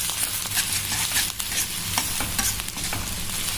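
Onion fries in a pan until golden, a dense, steady close-up sizzle with frequent scraping stirs of a spatula, loud and continuous with no talking.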